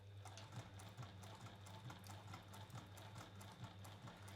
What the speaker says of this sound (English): we are working on the flatbed machine